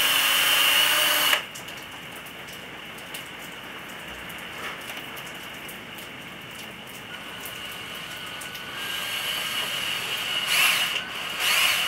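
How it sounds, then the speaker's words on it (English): A drill whines loudly for about a second, then stops; a quieter grinding, rain-like noise follows, swelling again near the end, as a bit drills into PVC. "So just drill in, inch it in a little bit by little, until you get as far as the bit will go."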